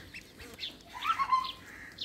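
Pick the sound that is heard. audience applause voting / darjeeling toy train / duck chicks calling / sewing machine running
duck chicks calling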